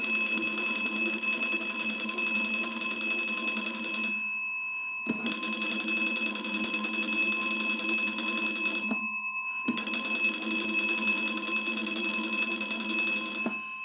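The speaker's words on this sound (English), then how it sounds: "So we want to go ahead and crank our magneto and ring the original bells." Original telephone bells rung by hand-cranking a magneto: three long bursts of loud, steady metallic ringing, each about four seconds, separated by short pauses, alone with no talk.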